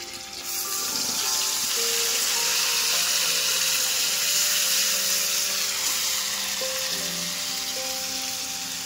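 Ground onion paste hits hot oil in a frying pan along with black cumin and green chillies, setting off a loud, continuous close sizzle that holds steady throughout.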